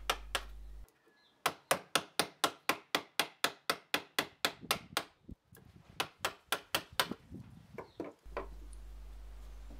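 A chisel struck with a mallet cuts a rounded corner in wood: a long series of sharp, close, evenly spaced wooden knocks, a short pause partway, then more blows, in a quiet room.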